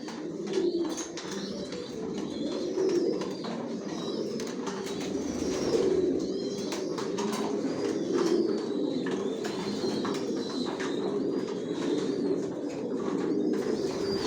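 Janssen racing pigeons in a loft, many birds cooing together in a constant low, rolling murmur, with brief wing flutters and small chirps mixed in, close and steady throughout.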